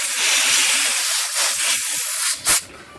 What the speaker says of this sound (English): Let's see if we can spray